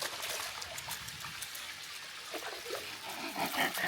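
Creek water at Fountain Springs in Ballara trickles softly and continuously, a faint, bright babble over a quiet outdoor background.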